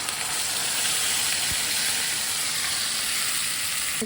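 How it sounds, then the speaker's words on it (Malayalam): Sauce mixture poured into hot oil with ginger-garlic paste, a steady loud sizzle and hiss of frying holding throughout, alone with no voices. "ഇനി ഇതിലേക്ക് നമ്മൾ മിക്സ് ചെയ്ത് വെച്ച ആ ഒരു സോസ് ഒഴിച്ചു കൊടുക്കുക"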